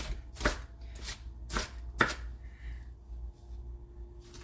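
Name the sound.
knife chopping an onion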